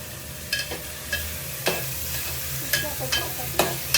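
Tomatoes go into a sizzling frying pan and are stirred, with a steady hiss broken by repeated sharp scraping and clinking strokes from a spoon, close and fairly loud.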